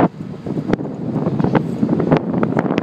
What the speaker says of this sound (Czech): strašně fouká